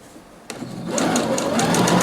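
A sewing machine stitching a decorative visible zipper into a lining, starting with a click and then a fast, even mechanical chatter close up that runs steadily to the end.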